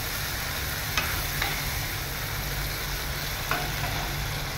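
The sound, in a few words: stirring bitter gourd chachori frying in a pan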